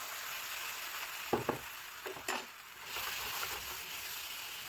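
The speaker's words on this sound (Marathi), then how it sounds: "त्यामध्ये आता आपण जी ग्रेव्ही पिसून घेतलेली ती ॲड करूया" Ground gravy poured into a pan of boiled eggs for egg curry, producing a soft, low sizzle broken by a few brief clatters and stirring scrapes.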